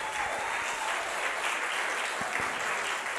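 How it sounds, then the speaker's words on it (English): A church congregation at a sermon claps steadily, a continuous even patter of many hands with a few louder thumps, carrying on without pause and free of talk. "Somebody clap your hands and shout"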